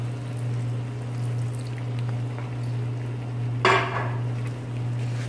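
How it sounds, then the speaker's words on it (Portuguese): A little water is poured into a pan of cooking chicken for a Chinese-style diced chicken stir-fry, a brief splashing burst rising over a steady low kitchen hum, alone and without talk. "eu vou botar um pouquinho de água"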